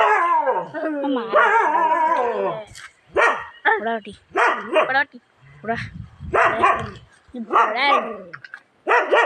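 Dogs bark angrily at another dog in repeated harsh bursts, with some yelping and howl-like cries between short pauses. The barking is loud and close, and it carries on throughout.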